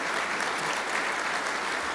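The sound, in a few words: audience applause at an awards dinner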